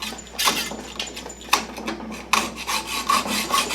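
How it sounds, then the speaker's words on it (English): Hand saw cutting through a piece of W1 water-hardening drill rod, a steady rasping stroke rhythm with sharp bursts at each push, close and alone. "This is a piece of W1 water hardening drill rod, and we're just about done sawing it off."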